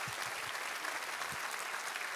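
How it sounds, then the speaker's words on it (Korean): A church congregation at a Korean revival service claps together, a dense steady wash of applause filling the room throughout at moderate level, with no speech. "우리 하나님께 감사와 영광의 박수 올려드리겠습니다."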